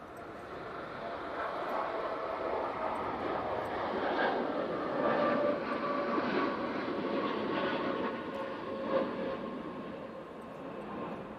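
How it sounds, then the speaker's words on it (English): A TUI Boeing 787 Dreamliner rolls down the runway for takeoff bound for Mahon, Menorca, its steady jet roar building and holding at a moderate distance throughout. "Tui 787. Now on the roll to Mahon or Menorca"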